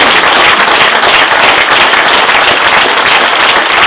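A crowd at a political speech event claps and applauds steadily, a dense, loud, unbroken wash of many hands throughout, with no voices standing out.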